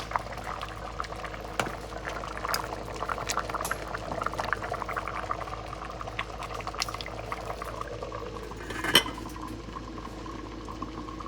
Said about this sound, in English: This is my rice and peas, nice, cooking in right there.